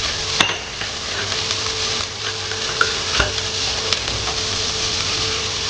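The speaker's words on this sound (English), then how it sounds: "Let that all cook till the onions turn just as a light golden brown." Onions, bay leaves, peppercorns and chilies sizzle steadily in a pot on the stove for an Anglo-Indian spicy pork roast, with a constant frying hiss and a few sharp clicks and taps from stirring or a utensil.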